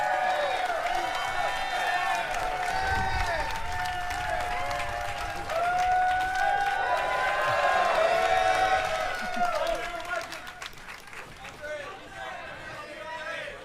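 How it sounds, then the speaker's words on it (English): Live audience at a Laver Cup tennis event breaks into sustained applause with cheers and whoops, loud and continuous, with voices talking over it before it fades near the end. "Round of applause for Andre Agassi"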